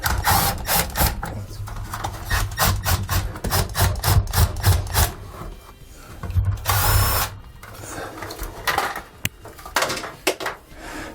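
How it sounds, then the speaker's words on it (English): Phillips screws are taken out of a roof vent with a power driver, which gives short repeated whirring bursts with pauses between them, then a longer grinding run up close. "we're going to take the 4 screws out of our vent"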